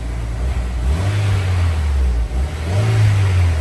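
Honda CRX with a SOHC VTEC engine revving on hot, humid day, a steady low engine drone swelling twice as the throttle is blipped, close and fairly loud with no talking.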